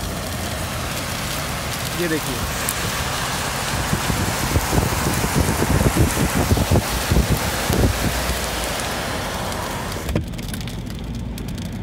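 Heavy rain in Dubai heard from inside a car through a lowered window, with a loud, constant wash of rain and spray over road noise from slow traffic while someone talks briefly.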